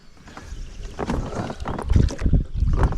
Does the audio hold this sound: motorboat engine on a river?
yes